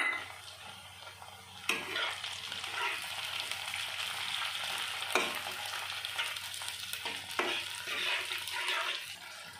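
Chopped tomato fries for an egg curry, giving a steady sizzle broken by three sharp spatula scrapes against the pan, with no one talking.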